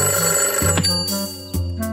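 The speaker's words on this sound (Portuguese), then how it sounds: "O pato disparou o alarme." A cartoon electronic alarm rings in bright repeated bursts over a steady hum, loud and close, with no voices.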